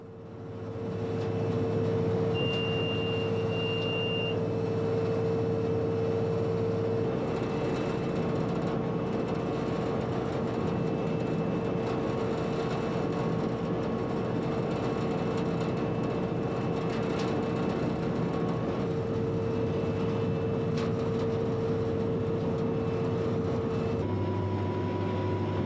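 Inside the cab of a 3,000 horsepower diesel locomotive pulling out of a station, a constant loud engine drone and low rumble holds steady throughout, with no voices.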